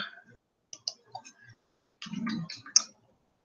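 Computer mouse clicks while a folder is opened, a few quiet, separate clicks scattered across a mostly silent room, with a brief soft rustle in the middle.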